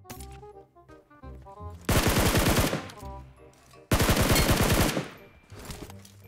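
Two long bursts of MG3 machine gun fire in BGMI, each a dense rapid rattle lasting about a second, loud and close, with quieter in-game music and sounds between them.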